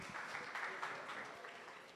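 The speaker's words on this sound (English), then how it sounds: "Give him a round of applause, please." Audience at a senior high school science and technology innovation challenge applauding a college team, steady clapping heard faintly and at a distance.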